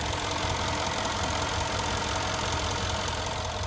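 A 2015 Mercedes-Benz E63 AMG S-Model 4Matic sedan engine idling, a steady, close, loud rumble with a faint knocking texture and no talking.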